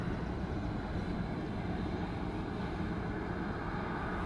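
An Aer Lingus Airbus A320 arriving at Dublin Airport from London Heathrow makes a continuous, even low roar that holds steady throughout, with no voices.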